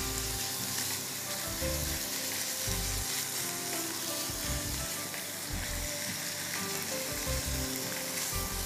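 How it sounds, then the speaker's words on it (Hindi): Minced meat browning in a pan for sloppy joes sizzles loudly and steadily, with crackling fry noise and intermittent low scraping thumps as it is stirred and broken up, no voice heard. "कीमे को भी अच्छी तरह पहले ब्राउन कर देंगे"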